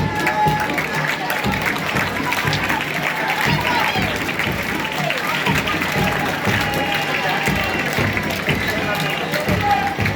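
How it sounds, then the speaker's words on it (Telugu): A stadium crowd at a Republic Day celebration claps steadily and densely for the full stretch, with cheering and a public-address voice underneath. "ప్రేక్షకులంతా చప్పట్లు కొట్టవలసిందిగా విజ్ఞప్తి"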